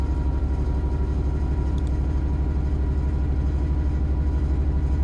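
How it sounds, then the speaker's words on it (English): A Class 66 diesel locomotive in Train Sim World 3 has its traction motors come up as it begins to pull away, a loud, steady low-pitched throbbing engine drone with a regular pulsing rhythm and no talk. "Motors come up, and the train is starting to move away."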